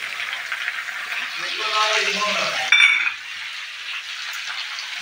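Raw green chillies and onions hit hot oil in a pan and sizzle steadily, a bright frying hiss close up, with a spatula stirring and scraping and a voice talking over it.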